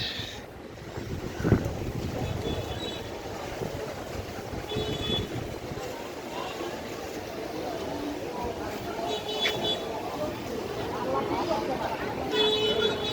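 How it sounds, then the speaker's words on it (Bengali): Strong wind just before a storm roars steadily and buffets the microphone in gusts, while people talk faintly underneath. "কি পরিমাণ বাতাস"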